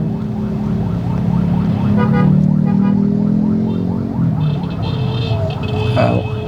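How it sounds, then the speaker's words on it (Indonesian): An ambulance siren wails over steady car engine rumble, rising as it passes close by, then a brief horn toot near the end. "Nah ini dia ambulannya lewat."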